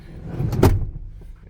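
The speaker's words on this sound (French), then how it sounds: "Donc quand on tire cette petite corde là ici avec l'autre côté, c'est là qu'on va faire flipper le siège." Rear seat of a 1997 Toyota Land Cruiser Prado 4WD flipped forward by pulling a small cord, giving a single near, short mechanical clunk and rattle over faint background noise.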